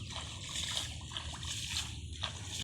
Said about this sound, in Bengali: মুরসালিন আমার সাইকেলটা ধুতে করতেছে